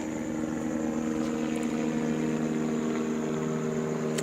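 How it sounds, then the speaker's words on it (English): A helicopter flies overhead, heard as a steady, continuous engine and rotor drone with a low tonal hum, moderately loud and unbroken, with no voices. "And I want you to hear the helicopter."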